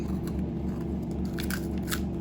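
Crisp, irregular crunching bites on a dry, brittle breadstick rusk, close up, with a steady low hum in the background.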